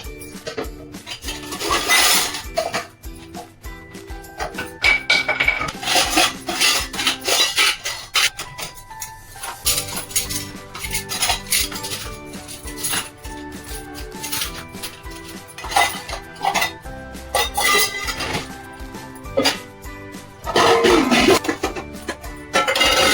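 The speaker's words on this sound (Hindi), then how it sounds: "यहाँ पर जितने भी बर्तन हैं सारे बर्तन रात के धुए हुए हैं, मैंने लगा के रख दिए हैं" Washed steel utensils clatter and scrape as they are stacked and put away in a home kitchen, with steady metallic rattling, rubbing and clinks close by throughout and no talk.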